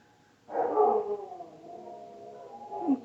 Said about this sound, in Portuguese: Como eu tô gravando à noite, então os cachorros ficam latindo à toa.